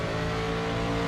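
Mustang race car from the 1992 DTM season in Raceroom, racing at Chang (Buriram) circuit, with a loud, steady engine drone holding close up throughout and no talk over it.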